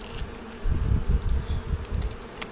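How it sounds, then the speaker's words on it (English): Honey bees, drones and workers, buzz close by during a sunny hive inspection, a low, fluttering hum that swells and wavers without any talk. "Drones, we've got drones, worker bees."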